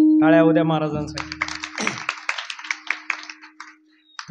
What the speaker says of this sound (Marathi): टाळ्या उद्या महाराजांसाठी.